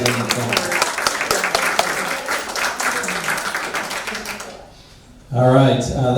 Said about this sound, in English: I want to give you a big round of applause